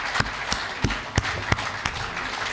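Audience applause at a Hindi comedy and poetry stage event, heard as scattered, sparse claps, several sharp separate hits at a moderate level with no steady roar.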